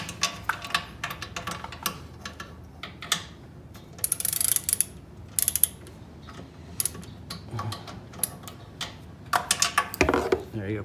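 A socket wrench works a nut on a Fradan self-propelled leaf blower, giving close, irregular ratcheting clicks and metallic taps in short bursts, with speech in between.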